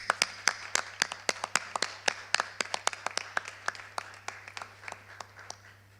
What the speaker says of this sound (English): please give yourself a very well-deserved round of applause